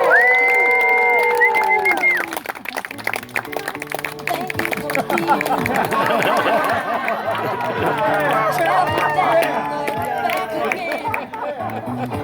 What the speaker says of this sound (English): Let's have a round of applause for Jeff and